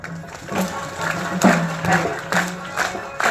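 Audience applause and cheering at a public speaking event in Jalna, a crowd clapping for seated elders, with a faint voice under it and loose bursts of claps swelling repeatedly.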